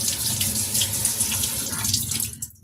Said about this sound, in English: We just run it through the water real quick.